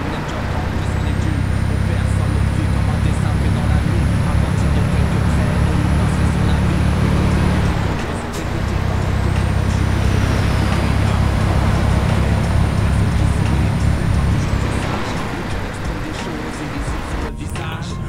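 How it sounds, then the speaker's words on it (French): Truck engine in Euro Truck Simulator 2 hauling an exceptional convoy on small roads, a loud steady low diesel drone that briefly dips around a gear change, then resumes, with a faint high whine above it. "je vais en profiter de cette petite ligne droite pour vous faire écouter un petit peu le bruit de mon camion"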